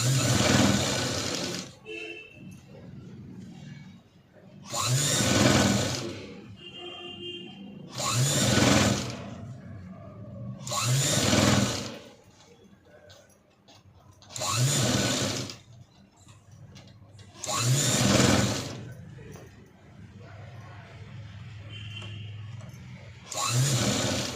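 Sewing machine stitching a sleeve onto a princess-cut blouse, running in repeated short bursts of steady whirring with brief quiet pauses between them, close and fairly loud, with no talk.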